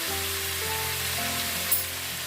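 Chicken curry with spinach sizzles steadily in a pan as it fries, a soft continuous hiss with a faint tonal hum beneath and no voices.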